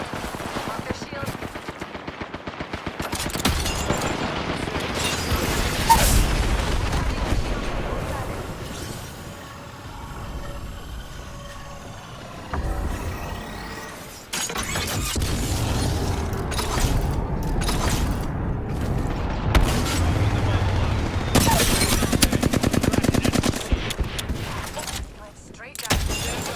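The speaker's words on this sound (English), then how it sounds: "Enemy here. Getting shot at." Gunfire rattles through a close-quarters fight in the video game Apex Legends, with bursts of automatic fire, clanks and mechanical clatter running nearly continuously, while a game voice calls out over the action.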